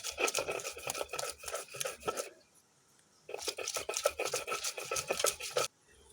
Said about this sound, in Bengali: আগে থেকে বেটে রাখা সরিষা আর কাঁচামরিচ আমি একসাথে বেটে নিচ্ছি